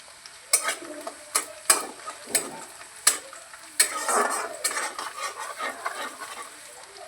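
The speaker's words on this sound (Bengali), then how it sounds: "রসুন কুচিগুলি একটু ভাজা ভাজা হোক" Chopped garlic frying in oil in a wok, a steady crackling sizzle broken by several sharp clinks and scrapes of a spatula stirring against the pan, close and fairly loud, with no talking.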